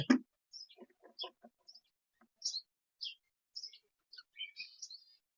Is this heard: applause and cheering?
no